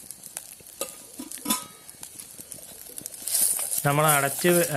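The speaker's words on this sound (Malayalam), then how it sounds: "ഇനി നമ്മൾക്കിതൊന്നും കൂടി ഇളക്കി ആ കാന്താരിയും കൂടി ഒന്നും കൂടി നല്ല രീതിയിൽ വഴറ്റിയെടുക്കാം" Wild kanthari chillies being stirred and sautéed with rice in a pot at a solo campsite, soft scraping stirs and a light sizzle, close by, with a person speaking over the latter part.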